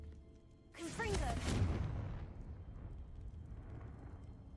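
A Confringo blast spell in the video game Hogwarts Legacy erupts with a sharp whooshing crack and a heavy, booming explosion that rumbles and slowly fades out, fairly quiet overall.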